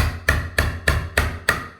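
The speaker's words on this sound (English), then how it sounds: "Just chisel it out." Five sharp, evenly spaced knocks of a chisel cutting out wood for a door hinge recess, each strike crisp and close, about a third of a second apart, with no talking.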